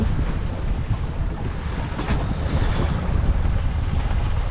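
Strong wind buffets and roars across open sea between Corsica and Sardinia, with a steady low rumble of wind noise and waves washing around a boat.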